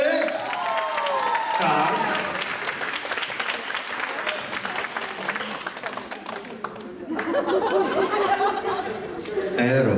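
Audience at an Italian-themed party bursts into loud clapping and cheering, mixed with chatter and laughter. The applause fades midway, then swells again, while a voice speaks over it.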